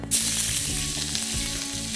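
Sliced bell peppers of mixed colours tossed into a very hot wok with prawns, giving a loud, steady sizzle with a sharp hiss at the start and crackling frying noise throughout, no voices.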